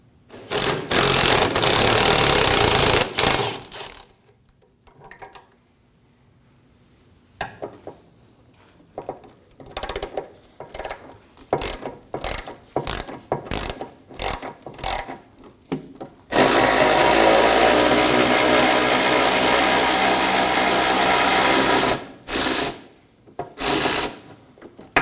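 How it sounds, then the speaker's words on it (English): Ratchet wrench loosening 13mm bolts on the side step of a 2009-2014 Ford F-150, a run of quick, close clicking bursts between brief pauses, with a louder steady rasp later, no talk. "We'll be using a 13mm to remove these."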